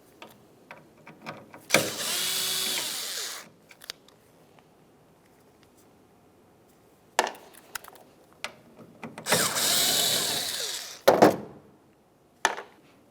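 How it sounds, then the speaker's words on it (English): Two T25 Torx screws are backed out of a 2005-2010 Dodge Dakota tailgate with a power driver, two whirring bursts of a couple of seconds each with clicks and handling knocks between them, close up. "you're going to be looking for two T25 Torx screws. Let's remove the pair."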